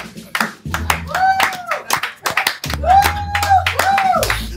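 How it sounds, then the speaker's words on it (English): Audience clapping on a talk show set, heard as bursts of sharp handclaps in rhythmic clusters, mixed with a singing voice and music-like tones, fairly close and loud. "Y'all clap for Kim."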